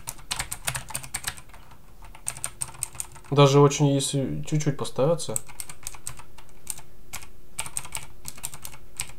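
Rapid, loud clicky typing on a Razer BlackWidow mechanical keyboard, sharp key strikes in quick bursts that pause briefly while someone talks, then resume alone.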